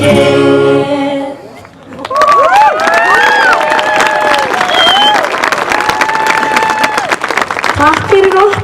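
Audience applause and cheering after a children's theatre group's performance at a Midsummer (Jónsmessa) event, rising into sustained loud clapping with shouts and whistles, after a voice speaks over a music tail.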